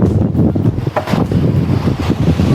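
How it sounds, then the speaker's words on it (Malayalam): A glass-bottom boat moves across the sea off Lakshadweep, its rumble mixed with heavy wind buffeting the microphone and the wash of water, loud and close throughout. "ഞങ്ങൾ ഗ്ലാസ് ബോട്ടിലോട്ട് പോയിക്കൊണ്ടിരിക്കുകയാണ്"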